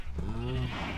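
A cow in the Minecraft video game gives a single low, drawn-out moo at close range over faint background noise.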